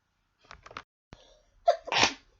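A few soft breaths lead into a short gasp, then one loud, explosive sneeze close to the listener.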